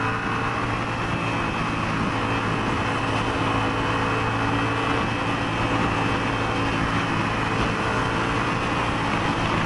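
A Yamaha FZ-07 motorcycle's twin-cylinder engine is ridden at around 6000 rpm, giving a continuous, loud, steady engine drone mixed with road and wind noise, with no talking.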